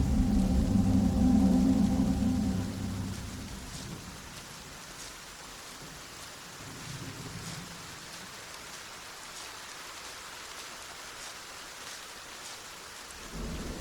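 Heavy rain pours steadily on surfaces while a deep roll of thunder rumbles loudly at the start and fades into the downpour, with no voices.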